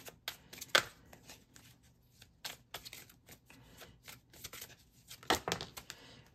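Empowerment oracle cards being shuffled by hand: quiet, close, intermittent flicks and soft riffling snaps, with a couple of sharper bursts separated by near-silence.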